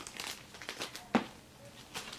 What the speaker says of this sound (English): Now I'm going to open these chocolates here